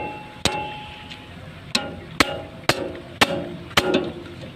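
Sharp metallic strikes from a small hammer while fitting a bucket on an amphibious excavator, six blows at irregular intervals, close by and loud, each ringing briefly before the next.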